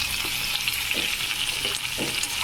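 Onions with salt sautéing in a pan, a steady close sizzle broken by a few soft stirring scrapes over a couple of seconds.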